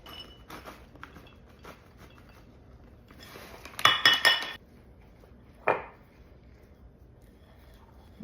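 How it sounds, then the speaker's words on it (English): Blonde brownie batter being mixed in a bowl, with soft scraping followed by a quick burst of metallic spoon-on-bowl clinks and one more sharp clink, heard up close in a quiet kitchen. "Mix that all in there real well"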